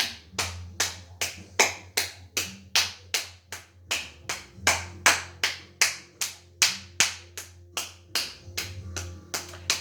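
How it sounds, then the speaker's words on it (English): A person claps and snaps their fingers in a quick, steady rhythm, with about twenty sharp close-up hits in ten seconds and low background music running underneath. "How about some clap snaps?"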